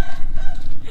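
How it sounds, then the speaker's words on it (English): A rooster crows at sunrise in Myanmar, its call rising over a steady background din that runs through the whole short moment. "Right now, according to that rooster."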